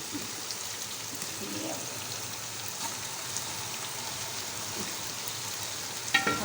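Onion and tomato paste hitting a hot pan while cooking mutton korma, giving a steady broadband sizzle with a sharp clink near the end, no voices over it.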